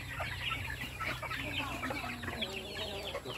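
Chickens cluck softly and steadily, several birds chattering together at low volume over a faint constant hum.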